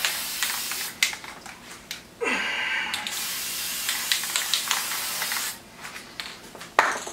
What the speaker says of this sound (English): Kind of forgot about it because I'm spraying clear